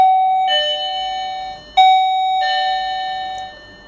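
An Anchor wireless doorbell rings out a loud, clear electronic chime tune: sustained bright tones repeating in phrases, close and alone, with no voices.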